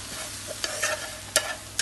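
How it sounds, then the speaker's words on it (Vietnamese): Braised dried fish with garlic and chili stirred in a hot pan, with a steady low sizzle and several distinct spatula scrapes against the metal, close and clear, with no talking. "Giờ mình sẽ đảo đều"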